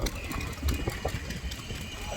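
Vintage steam engine at an outdoor vehicle event in Ladybank, Scotland, running with a rapid mechanical chugging and clatter over a low hum, fairly faint and steady, with a voice talking over it.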